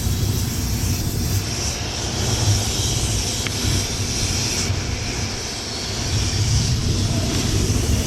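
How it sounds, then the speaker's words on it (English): An air compressor runs in a garage, a loud, unbroken mechanical drone and rushing hum that holds nearly level throughout with only slight swells. "We got the compressor running, so we blow air here on our makeshift board"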